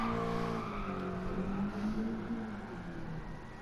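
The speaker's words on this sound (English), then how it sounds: "Now just gas it up, turn into a little Scandinavian flick going on." A drift car in Gran Turismo Sport swings through a Scandinavian flick, its engine droning steadily with tires squealing in a long, wavering tone that fades slightly toward the end, with no talk.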